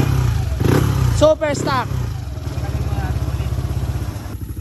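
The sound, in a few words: motorcycle engine starting and running after rebuild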